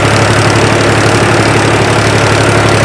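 A tractor engine driving a rotavator runs steadily at close range under no load, a loud, even mechanical drone and rumble with no change in pace and no voices.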